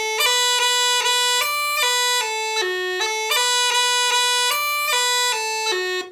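A long roll ornament in the tune Earl's Chair, played solo and close as a quick run of clear, pure melodic notes stepping up and down through a phrase.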